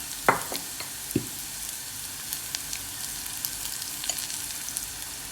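Masala with turmeric and chilli powder sautéing in a pan, a low steady sizzle with a few sharp spatula scrapes and taps near the start and scattered softer clicks after, close by and without talk.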